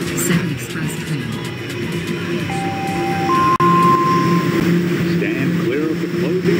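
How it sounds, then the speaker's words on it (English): Express subway train running in a Roblox subway game, a steady rumbling ride with tonal whine rising in steps, continuous and fairly loud throughout. "This is a tropical terminal bound 7 express train."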